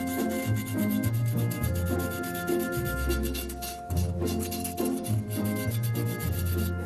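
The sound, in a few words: sanding excess filler off a vase piece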